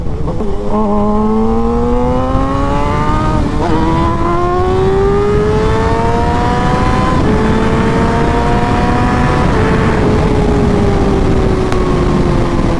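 A Kawasaki ZX-6R or Suzuki GSX-R600 sport motorcycle with a Graves mid-pipe and slip-on exhaust, loud and raspy, revs hard through several gears on a factory quickshifter, each upshift marked by a brief break before the whine climbs again.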